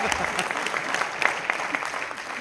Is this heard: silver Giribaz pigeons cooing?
no